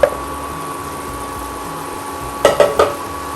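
A spoon clinks and scrapes against a pot as dried shrimp rice is mixed, three quick knocks standing out near the end over a faint steady hum, with no voices.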